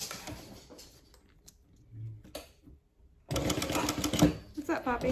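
A domestic sewing machine stitches a pocket onto the side panel of a heavily modified Trailblazer backpack, sounding in short bursts of rapid mechanical chatter with pauses, then a louder spell near the end.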